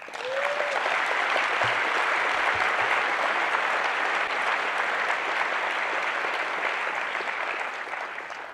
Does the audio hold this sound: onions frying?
no